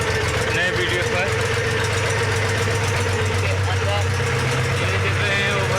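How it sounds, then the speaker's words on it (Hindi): A vehicle engine drones loudly and continuously on a railway overbridge, a rough, knocking idle-like rumble that stays constant throughout. "गाड़ी का साउंड देख सकते हैं, बहुत ज़्यादा साउंड करता है यहाँ पे"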